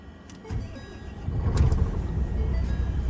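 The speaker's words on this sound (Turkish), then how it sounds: "arabamızı çalıştıralım" A truck's engine turns over and catches on a snowy road on a cold night, its low rumble swelling in two surges and then settling into a steady, fairly close idle.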